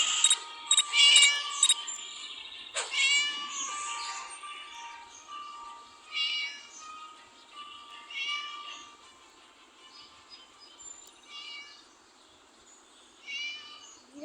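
Cat in the video game Scary Teacher meowing repeatedly, with a quick run of sharp cries at the start followed by several drawn-out meows spaced through a quiet background, no talking.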